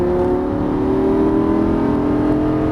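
A Lamborghini Gallardo 530 hp engine drones loudly and steadily on a track, its pitch edging upward as it accelerates out of a corner, with no voices.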